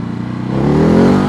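Italian-built KLX 500 motorcycle with a Ducati engine revs hard in first gear, a close, loud engine note rising in pitch as it accelerates.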